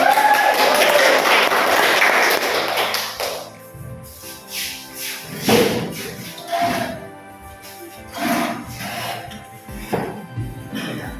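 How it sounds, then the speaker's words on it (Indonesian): Classroom applause breaks out after a group presentation, starting as dense clapping and thinning into scattered claps and taps, with voices talking over it. "Tepuk tangan, Bu."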